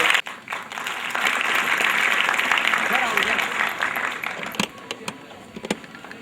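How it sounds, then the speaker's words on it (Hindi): Audience applause at an AIDS-awareness inauguration ceremony, a broad steady wash of clapping that swells for several seconds and then thins into scattered claps. "कृपया जोरदार तालियां बजाकर"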